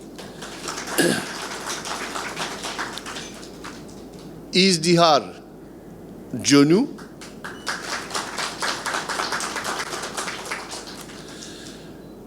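A hall audience at a 2021 integrity essay-contest award ceremony claps for winners. Quick, light clapping runs through most of the stretch, broken by a voice over a loudspeaker briefly announcing names.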